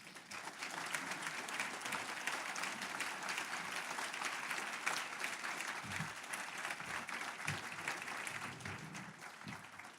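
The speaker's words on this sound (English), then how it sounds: "please give them a round of applause." Sustained audience applause at an education conference, a dense, even wash of many hands clapping throughout, fairly distant and uniform with no voices on top.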